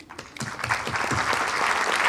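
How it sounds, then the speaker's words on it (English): Applause from an audience at the Havana Film Festival closing ceremony in New York. It builds quickly and stays steady as dense, continuous clapping that fills the room. "let's give you a round of applause"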